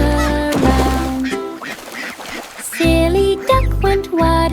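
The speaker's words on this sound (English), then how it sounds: "Silly duck went waddling by, with a pop and quack nearby." A cartoon duck quacks in a nursery-rhyme song, with loud nasal honking quacks that come in bursts with short gaps, along with brief pops and a quieter stretch in the middle.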